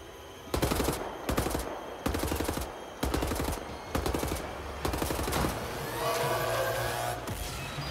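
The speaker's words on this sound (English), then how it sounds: "A good shotgun to the face did it." Shotgun blasts from the video game Wolfenstein: The New Order, several loud booming shots in an uneven rhythm with brief pauses, followed by a lingering rumble and mechanical clatter.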